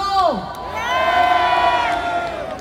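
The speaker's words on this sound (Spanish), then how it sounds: "Gracias por los aplausos, damas y caballeros." A concert crowd in the Bronx, New York, cheers loudly with rising and falling whoops and shouts that blend into a sustained roar lasting the whole stretch.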